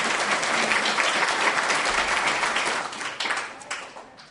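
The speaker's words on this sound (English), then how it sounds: "a round of applause, please, for Raymore & Flanagan" An audience claps steadily for an award presented to Raymore & Flanagan at a disability awareness event, a dense, even wash of many hands that swells and then tapers off toward the end.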